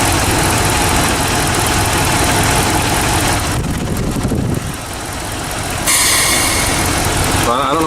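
A 5.7 Hemi truck engine idles with the PCV line disconnected, a loud steady rumble mixed with roaring fan wind, the texture shifting partway through as handling noise cuts in.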